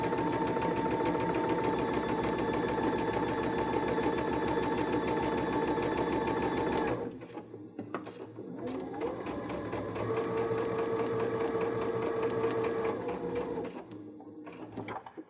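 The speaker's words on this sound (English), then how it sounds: "So just sew all the way down." A sewing machine stitches a dress seam with a fast, loud, steady whir for about seven seconds, pauses briefly, then resumes in shorter, uneven bursts.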